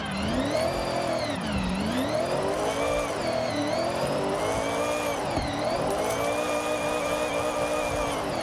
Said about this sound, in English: That exhaust sounds fucking brutal, though.